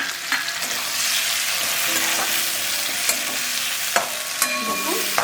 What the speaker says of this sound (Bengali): খুব সরু সরু ধীরে ধীরে করে পেঁয়াজ কেটে সেটা দিয়ে দিলাম এবার পেঁয়াজটা ভাজি